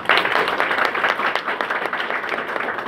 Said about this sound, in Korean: 우리 박성찬 의원님께 다시 한번 박수 부탁드립니다.